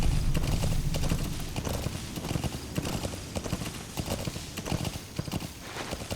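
Horse hooves gallop in Metal Gear Solid V: The Phantom Pain, a rapid, rhythmic clip-clop with heavy low thuds, close and steady, with a brief whinny-like sound near the start.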